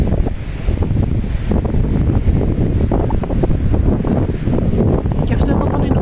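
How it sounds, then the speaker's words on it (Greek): Strong wind buffets the microphone in a loud, continuous roar of rumbling gusts outdoors in Villa Alemana, Chile, with no clear voices over it. "Και φυσάει κιόλας."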